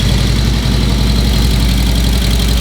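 A vintage Harley-Davidson motorcycle engine runs loud and close at a steady idle, with a deep, thumping low rumble and a rough, even pulse throughout, with no speech over it.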